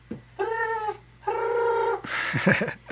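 A rasping, drawn-out growl made by a human voice imitating a Walking Dead zombie, repeated twice with a pause between, followed by short breathy grunts.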